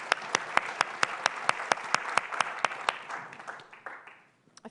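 An audience at a Bay Area nonprofit forum applauds: sharp, evenly spaced claps stand out at first, then blur into a softer wash of clapping that fades away over several seconds.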